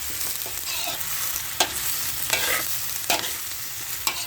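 Egg being stir-fried in a hot pan gives a steady crackling sizzle, broken by four or five sharp scrapes of the spatula against the pan. It sounds close up, with no talking.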